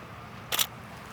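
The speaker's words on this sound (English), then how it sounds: "So let's just take a test shot." A single quick camera shutter click from a test shot during an outdoor natural-light portrait session, close and crisp, standing out briefly over faint background ambience.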